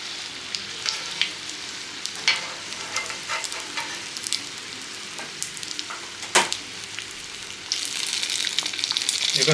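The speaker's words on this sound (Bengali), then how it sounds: "লাল লাল করে ভেজে নিতে লাগবে।" A Mughlai paratha shallow-frying in hot oil, with a steady close sizzle and scattered crackles and pops, growing denser and louder near the end.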